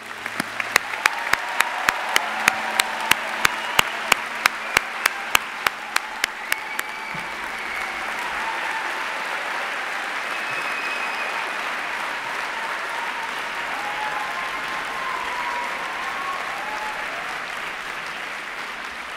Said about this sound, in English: please join me in a round of applause for the graduating class.